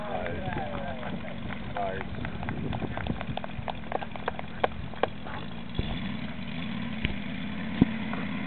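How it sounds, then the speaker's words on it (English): A five-cylinder radial engine on a third-scale Stearman model biplane runs steadily at a biplane fly-in, a continuous low drone with scattered sharp pops and clicks throughout. "Beautiful third scale Stearman 5-cylinder radial engine."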